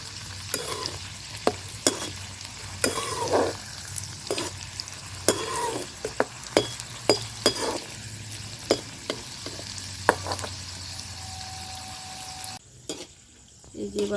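Nimki dough snacks deep frying in a pan of bubbling oil, a continuous sizzle broken by frequent sharp clinks and scrapes of a slotted spoon, then a brief quieter stretch near the end.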